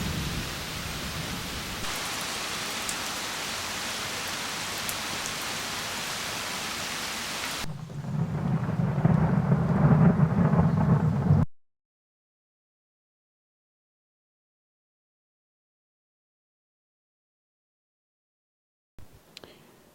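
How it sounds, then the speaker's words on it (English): Heavy rain pours steadily outside with thunder, a dense rushing hiss that swells louder for a few seconds, then cuts off abruptly into silence before a brief burst of noise returns at the very end. "Now, it's raining quite heavily outside now."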